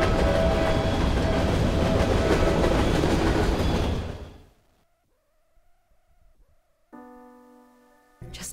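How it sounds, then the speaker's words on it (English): A train rolls loudly along the rails in the video game Eternights, a dense rumbling roar that fades away after about four seconds, leaving near silence broken by a faint tone and a brief chime. "Oh, train."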